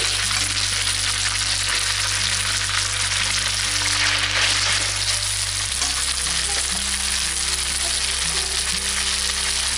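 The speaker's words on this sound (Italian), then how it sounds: "mentre la pasta è ancora al dente, scoliamo direttamente nella padella gli spaghetti" Al dente spaghetti drained straight into a pan of hot garlic oil with chili, giving a loud, steady, continuous sizzle and crackle throughout, with no talking.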